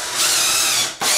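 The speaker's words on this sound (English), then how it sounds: "run in one of these screws here just to kind of hold things in place" A power drill driving a screw whirs steadily for about a second, briefly slows, then spins up again, close and loud.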